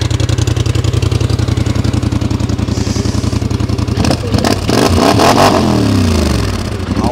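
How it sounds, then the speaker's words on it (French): A 90 hp, 400 kg quad bike engine revs up loud and close, a steady throbbing drone that breaks into hard, rising acceleration bursts with clattering mechanical noise near the end. "J'adore le bruit, j'adore ce quad."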